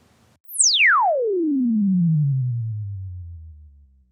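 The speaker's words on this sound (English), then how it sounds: "I have two loudspeakers, a good one and one that exhibits significant transient distortion. Here's the good one." A single pure tone test signal played through a loudspeaker sweeps smoothly downward from very high to very low pitch over about three and a half seconds, steady and loud, with nothing else.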